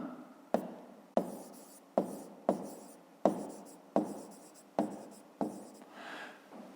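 Chalk or marker writing on a board during a fifth-grade maths lesson, heard as a series of about eight sharp taps, each followed by a short scratchy stroke at an even rhythm, close and fairly quiet, with no talk.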